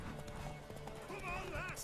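Horse hooves clatter rapidly in a galloping race in the video game The Witcher 3, with a whinny near the end and loud speech over the hoofbeats.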